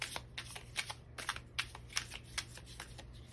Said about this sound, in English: shuffle once more.